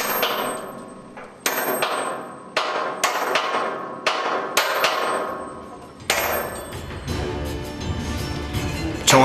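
A worker hammers a split pin into a tower crane mast: about seven loud, ringing metallic blows at a steady rhythm, then a denser run of rapid strikes near the end.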